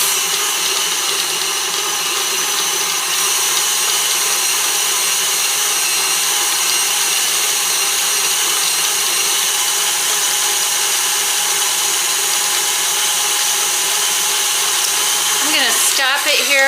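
An electric mixer runs at medium-high speed beating snickerdoodle cookie dough, a steady loud whirring drone that holds unchanged for most of the stretch, with a brief shift near the end as it slows.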